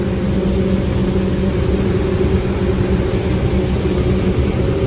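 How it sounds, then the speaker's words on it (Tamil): An old green SETC bus travels fast on a Chennai to Madurai route, its engine and road noise making a loud, steady, unbroken drone with no pauses throughout. "ஆனால் பஸ்ஸோட ஸ்பீடு தரமாக இருக்கு,"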